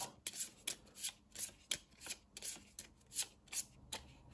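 Cards from the board game Too Many Bones being shuffled by hand, a steady run of about a dozen brisk riffling bursts, close and fairly quiet, with no talking.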